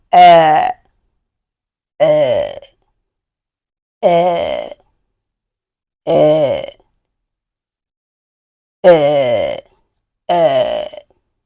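A voice imitates a child belching after overeating, giving six separate drawn-out croaky burp sounds spaced evenly about two seconds apart, loud and close with silence between each.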